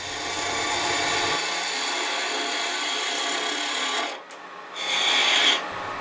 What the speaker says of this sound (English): So I just continue with the 3/8 inch spindle gouge, make those cuts